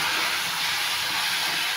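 Cut tomatoes hit a hot pan and set off a loud, even hiss of sizzling that holds steady throughout, close up with no talking.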